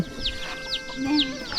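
Chickens cluck repeatedly at a farm where chickens and pigs are raised, a few close short calls with some chirping and faint voices in the background.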